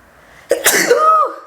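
A single loud sneeze close up, a sharp burst followed by a drawn-out voiced exhale.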